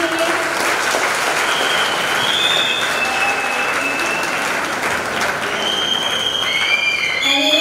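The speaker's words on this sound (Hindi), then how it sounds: "एक अच्छी ताली यीशु मसीह के लिए।" A church congregation applauds Jesus Christ at a Christmas service, loud sustained clapping from a large crowd that carries evenly for several seconds, with faint music or voices in the background.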